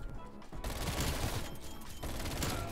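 Rapid automatic fire from a gun in a first-person shooter, a dense, continuous roar of close shots with only brief gaps.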